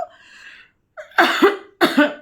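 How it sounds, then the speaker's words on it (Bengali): A person coughs at close range: a strained breathy sound, then two harsh coughing bursts separated by a short pause, with no talk. "কাশিটা খুব বেড়েছে"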